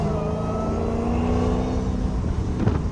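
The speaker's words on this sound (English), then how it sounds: "so y'all can hear the exhaust and the supercharger as much as y'all can." A straight-piped Dodge Hellcat drives with its windows and sunroof open, its exhaust droning steadily with a supercharger whine layered on top, close and loud, with a brief rise near the end.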